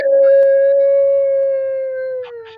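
A dog howls loudly and close, one long sustained tonal howl that holds steady and slowly sinks in pitch before tailing off, with a couple of faint yips near the end.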